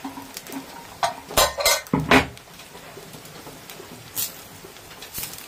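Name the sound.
lid being lifted off a cooking pot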